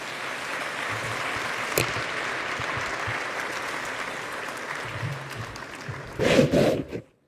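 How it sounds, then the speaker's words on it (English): An audience claps for summit panelists in Kigali, with sustained, moderately loud applause under a brief murmur of voices. The clapping swells near the end and then cuts off abruptly. "another warm round of applause for our excellent panelists"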